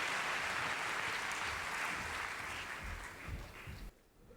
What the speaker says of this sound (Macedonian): Фала за бендот, аплауз за бендот.